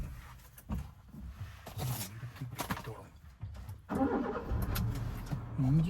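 A car engine cranks and catches partway through, a rough mid-pitched roar rising from inside the car amid muffled rustling and bumps, with no one speaking.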